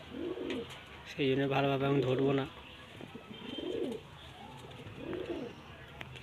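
White female pigeons cooing close by in soft, repeated throaty coos, with one louder drawn-out call; a person speaks briefly over the birds.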